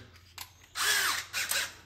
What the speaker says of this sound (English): So we take the next size drill bit, which is a 19/64